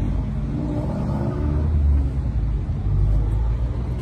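Dodge Ramcharger at a car meet rumbling with a steady low engine note that swells slightly midway, close by and continuous with no talk.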